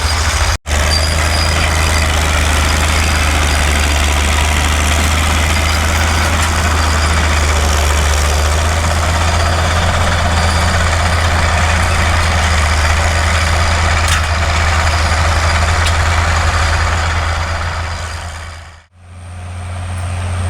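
A heavy engine drones loud and steady throughout, with a constant low rumble and an unbroken mechanical roar; it belongs to a tractor plowing a field at a fall plow day, and it cuts out briefly near the end.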